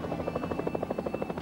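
Helicopters flying in an air parade make a steady, rapid rotor thumping with a constant whine over it, close and continuous throughout with no voices.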